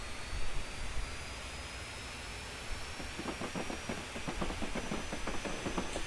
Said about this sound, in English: This is the English Electric Gas Turbine GT3.